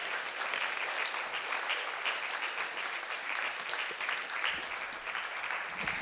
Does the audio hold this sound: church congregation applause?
yes